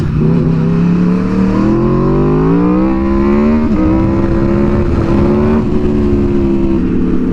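Aprilia motorcycle engine while riding, a loud continuous drone whose pitch climbs and dips through gear changes, with strong wind rush throughout.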